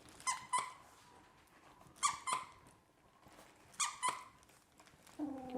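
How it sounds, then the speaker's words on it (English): A squeaky octopus toy for three-week-old Goldendoodle puppies gives three close pairs of sharp squeaks, evenly spaced with quiet gaps between, followed by a short high whine at the end. "we're gonna do a refresher with the squeaker"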